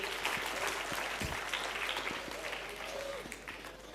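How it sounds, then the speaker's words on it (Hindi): An audience at a children's prize distribution event for a storytelling competition claps steadily and fairly loudly throughout, with some crowd murmur mixed in. "जोरदार तालियां बजाइए उनके लिए।"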